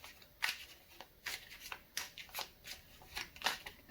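Tarot cards being shuffled by hand in repeated soft riffling bursts, about seven quick crisp flutters spaced roughly half a second apart, close and fairly quiet with no voices.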